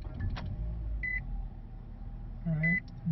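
A 2013 Nissan Rogue SE with 46,000 kilometers starts up, giving a few short electronic chime beeps over a low, quiet engine hum inside the cabin.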